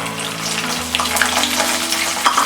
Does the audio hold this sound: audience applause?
no